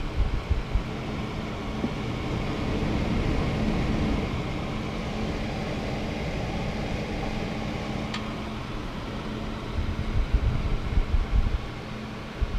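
A Corsair H110i liquid cooler's fans run in performance mode, giving a steady, even rush of moving air with no distinct motor whine, close and constant throughout.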